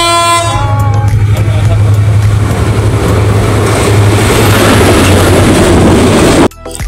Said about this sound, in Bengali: আরেকটা ট্রেন আসে এবং এটা রেলওয়ে স্টেশনে থামে না